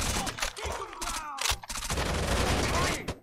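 Rapid gunfire from the video game Rainbow Six Vegas 2, dense bursts of shots with sharp broadband cracks, mixed with game voices and chatter, continuing loudly for about three seconds with a brief drop partway through.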